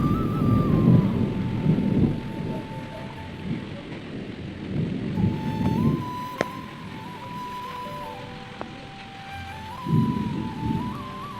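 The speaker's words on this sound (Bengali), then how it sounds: "কি জোর জোর মেঘ ডাকছে তোমরা তো বুঝতেই মানে শুনতেই পেলে" Deep thunder rolls and rumbles loudly several times over a steady wash of falling rain during a Kalbaishakhi (nor'wester) storm, with no voices.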